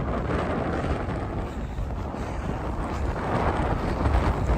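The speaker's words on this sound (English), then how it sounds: "Sorry, it's gonna be really windy now." Strong wind buffets the microphone on a mountain trail run, a loud, rumbling roar that gusts unevenly throughout and swells toward the end.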